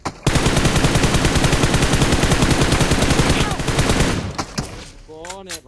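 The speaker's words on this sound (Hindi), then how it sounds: "हम यहाँ पे आए और तभी पीछे से फायर आया।" Sustained rapid automatic gunfire in the BGMI battle royale game, a loud dense burst that runs for about four seconds before fading into scattered game sounds.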